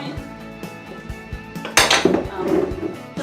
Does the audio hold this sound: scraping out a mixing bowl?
yes